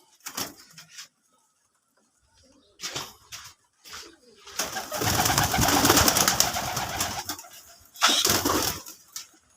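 Native pigeons in a loft, with bursts of cooing and fluttering between quiet gaps and a brief thump.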